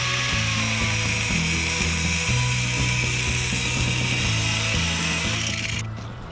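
Metal piece being cut at a 20-degree angle while making a pallet-dismantling tool, a loud close continuous cutting whine with a steady repeating mechanical pulse underneath, running without talk and winding down at the end.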